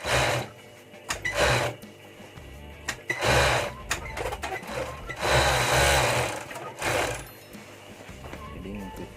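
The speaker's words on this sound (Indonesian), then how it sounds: "Jadi kita obras dulu lengannya seperti ini." An overlock sewing machine serges the sleeve of a button-up work shirt in bursts of whirring stitching, several runs separated by short pauses.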